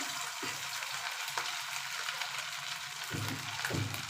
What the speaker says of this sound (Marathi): आता मी वडे असे तेलात घालते सोडते असे